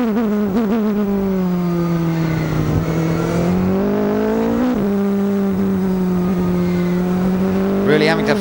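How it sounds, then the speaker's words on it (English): A high-pitched A1GP race car engine whines steadily, its pitch dipping and climbing as it works through corners of the Chengdu circuit with feathered throttle, heard loud from on board. "Let's just listen to that engine working around this Chengdu circuit."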